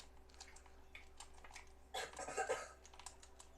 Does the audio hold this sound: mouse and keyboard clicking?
yes